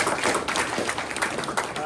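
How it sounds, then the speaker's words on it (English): Audience applause at a press luncheon, a dense wash of clapping hands sustained evenly for two seconds with no break. "Let's give it a round of applause for that."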